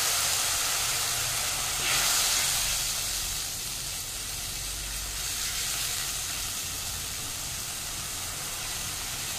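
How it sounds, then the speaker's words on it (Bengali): Tomato masala with tamarind chutney and water sautéing in a pan gives a steady broadband sizzle and hiss, swelling briefly near the start and then settling to an even, close simmer with no talk. "যতক্ষণ এই টমেটোটা পুরো গলে যাচ্ছে ততক্ষণ অবধি আমি এটাকে ভালো মতো বেশ খানিকটা কষিয়ে নেব"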